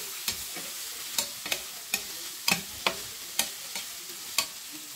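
Sautéed fish and vegetables stirred in a sizzling pan, a spoon scraping the metal about ten times in a steady rhythm over a constant frying hiss.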